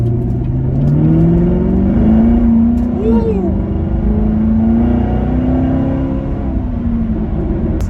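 A Chevrolet C7 Corvette engine rises in pitch as it accelerates, a loud close revving drone that climbs and dips through a gear change and continues pulling.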